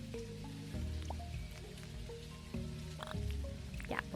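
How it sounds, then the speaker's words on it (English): Rain falls in a video game, a soft steady patter with scattered drips and small splashes, faint and even throughout without any talking. "I hear the rain. I do hear the rain."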